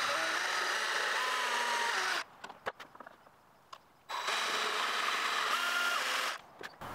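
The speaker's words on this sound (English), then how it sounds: "this I can finish up with the jigsaw" A jigsaw cuts a wooden window stool. Two long, loud, steady bursts of buzzing cutting are separated by a quieter stretch with a few clicks and handling sounds.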